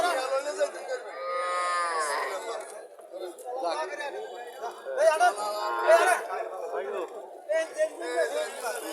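Local cows and calves moo at a busy village cattle market in Chandimura, Barura, Comilla, with drawn-out calls heard over nearby chatter and people talking.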